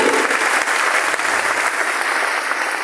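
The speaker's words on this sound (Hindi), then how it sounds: "संजय सर के लिए एक जोरदार ताली होना चाहिए, जबरदस्त ताली।" Loud, sustained applause from an audience at a mentoring or business gathering, a thick wash of many hands clapping that holds steady throughout.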